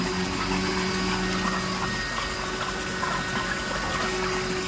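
A DC brushless surface solar pump runs in a shop demo, moving water with a steady, continuous rushing and gurgling flow over a constant motor hum, with no talk.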